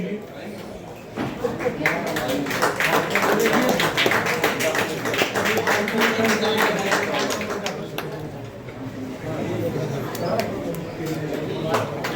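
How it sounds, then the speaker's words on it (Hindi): A crowd at a retirement function for a Northern Railway staff member in New Delhi applauds with loud, sustained clapping that builds and fades over several seconds, with voices mixed in. "जोरदार तालियां बजती रहे भाइयों।"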